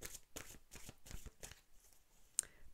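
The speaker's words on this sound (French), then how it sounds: "Alors, je tire une dernière carte. Je reprends mon jeu." A deck of oracle cards is shuffled by hand in a quick series of papery riffles and flutters, about six bursts in rhythm, close and alone, ending with a sharp tap.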